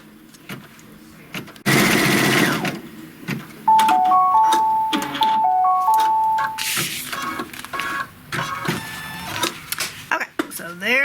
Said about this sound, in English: I'm going to go ahead and stitch it off